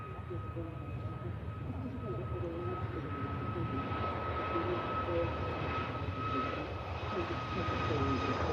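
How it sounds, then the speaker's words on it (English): Ryanair Boeing 737 MAX jet taking off at Manchester Airport, a steady, distant engine roar that swells gradually over several seconds with a faint tonal whine above it, heard alone. "Using a lot of Runway. Ryanair 737 MAX."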